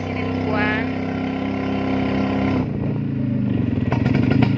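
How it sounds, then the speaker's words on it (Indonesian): A Vespa-powered motorcycle rickshaw (becak) riding through the town of Padang Sidimpuan, its engine puttering loudly and steadily up close, with a change in engine note midway and faint rattling toward the end. "pakai beca Vespa ya, salah satu transportasi khas kota Padang Sidimpuan."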